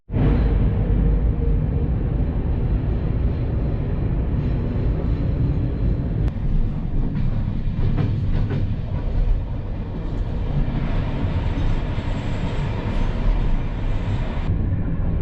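An old, run-down train with a wooden interior travels the rails in Bosnia near Konjic, giving a loud, steady rumble and rattle of wheels and carriages that continues without a break from start to finish.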